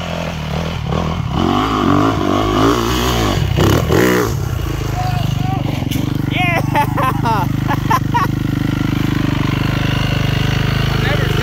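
A Yamaha Raptor 700R ATV engine revs hard on hill climbs at an offroad park, its loud, close rumble rising and falling throughout, with people talking and shouting over it.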